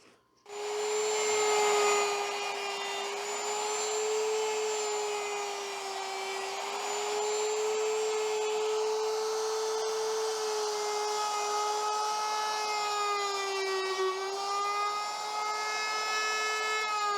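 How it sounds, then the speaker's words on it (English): A router cuts wooden beehive woodenware, a loud sustained high-pitched whine with strong tonal harmonics that dips slightly in pitch as the bit bites into the wood. "If I go this way, it'll grab the router and want to push it away."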